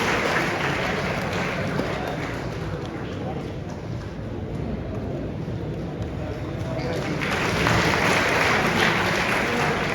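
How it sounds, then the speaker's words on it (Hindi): An auditorium audience applauds an award winner with sustained, dense clapping that swells near the end, steady and fairly loud throughout. "एक बार जोरदार तालियों से हार्दिक अभिवादन करें"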